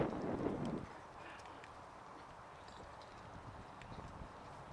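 Hooves of a ridden horse clip-clopping faintly and steadily on the ground, with a low rumble of wind or movement at the start.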